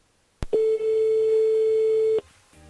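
A telephone tone on a radio call-in show sounds as one sustained steady beep lasting nearly two seconds, preceded by a click, clear and loud with no talk over it.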